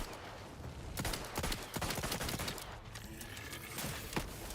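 Gunfire in The Outer Worlds 2, a string of sharp, loud shots fired in uneven bursts, some clustered close together and others spaced apart, over steady background game noise.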